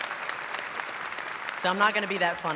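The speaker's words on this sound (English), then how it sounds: "Another round of applause for him" Audience applause at the Medical College of Georgia's 187th hooding ceremony, a dense, steady clapping that carries for a moment before a speaker starts talking over the fading crowd.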